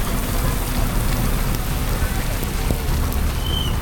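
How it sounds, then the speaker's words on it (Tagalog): Steady rain falls and patters on surfaces during a marathon, a constant hiss close by with scattered droplet taps and no talking. "Kasabay ng ulan"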